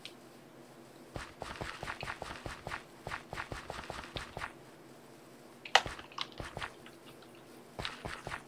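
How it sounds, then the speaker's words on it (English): Footsteps in Minecraft PVP, a video game: soft, crunchy, evenly paced steps in quick runs, pausing briefly before resuming, fairly quiet and close, with no talking. "I hear my own footsteps."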